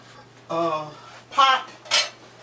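Metal spoon knocking and scraping around a large pot of Alabama camp stew with meat, tomatoes and corn, three distinct clanking bursts close up against a quiet background.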